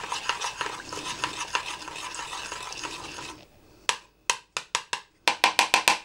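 White cabbage and tofu are stirred in a pan with a dense, continuous scraping and rustling for about three seconds, then a brief pause, then a run of crisp, rhythmic utensil strokes in quick succession.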